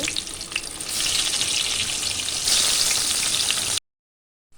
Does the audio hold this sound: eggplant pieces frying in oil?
yes